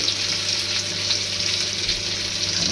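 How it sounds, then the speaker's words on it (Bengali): Small khaira fish coated in spiced masala sizzle steadily in hot oil, a continuous bright crackling hiss close by, with no talking over it. "মশলাদার ফিশ ফ্রাই হচ্ছে আমাদের, ছোট ছোট খয়রা মাছ"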